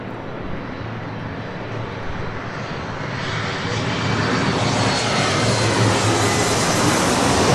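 A Delta Connection Embraer E175 jet airliner roars past, its engine noise broadband and loud, building steadily and brightening as it draws nearer over several seconds.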